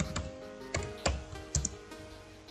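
Keys tapped on a computer keyboard while writing database query code, a few sharp clicks spaced irregularly, close and fairly quiet with no talk.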